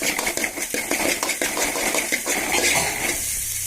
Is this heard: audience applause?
no